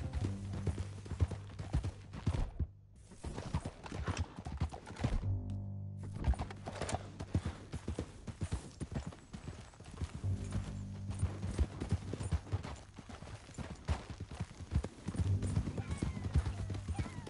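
Horse hooves clip-clop steadily in Red Dead Redemption 2 as riders move through a canyon, a continuous rhythmic trotting beat at moderate distance with a few brief gaps.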